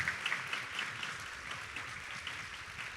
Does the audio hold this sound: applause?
yes